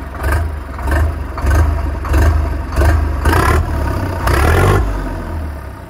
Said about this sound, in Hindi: अब ट्रैक्टर की आवाज़ वगैरह जो है वो चेक करते हैं दोस्तों, बहुत तगड़ी आवाज़ है जी ट्रैक्टर की।